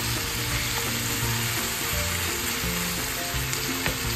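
Bitter gourd sautéing with garlic and salt in a hot pan, a steady close sizzle and crackle broken by repeated stirring scrapes and clatters throughout, with no voices.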